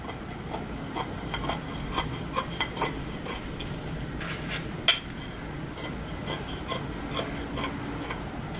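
Scissors snip paper around the edge of a plate while making a decorative Mod Podge plate, producing repeated small cuts and rustles at close range, with no voices.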